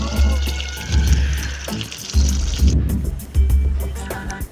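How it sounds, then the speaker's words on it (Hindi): Tap water runs steadily over tomatoes being washed in a kitchen sink, a continuous close splashing flow with a few brief surges and dips. "पहले टमाटर को अच्छी तरह से धोएंगे।"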